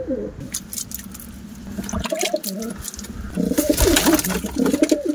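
Pet pigeons coo in their cage, repeated soft, throaty coos from several birds close by, rising in a busier cluster toward the end, with light rustling and flutters in between.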